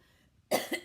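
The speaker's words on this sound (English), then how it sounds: "I'm going to cover my microphone because I'm going to cough." A single muffled cough, close and brief, after a moment of near silence.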